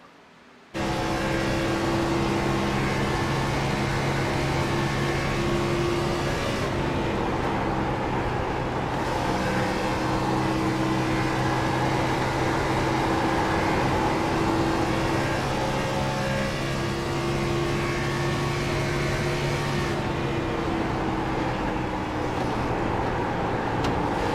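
A race car engine drones loud and steady in a racing simulator, with brief dips in pitch where the driver lifts off the throttle, heard alone with no talk.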